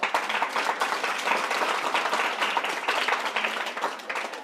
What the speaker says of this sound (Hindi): एक बार उनके लिए जोरदार ताली बजाइए